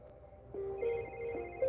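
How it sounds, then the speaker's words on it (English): A telephone rings with repeated electronic tones, fairly faint and steady over a low background hum, with no talking. "her phone rang"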